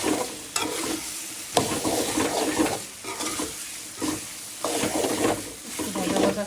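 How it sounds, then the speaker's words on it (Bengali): Prawns sizzle in a hot pan while a spoon scrapes and stirs them in repeated strokes, a steady frying hiss broken by rhythmic clatters at close range. "দিয়ে দিলাম চিংড়ি মাছটা"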